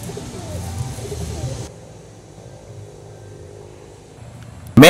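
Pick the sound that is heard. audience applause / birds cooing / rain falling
birds cooing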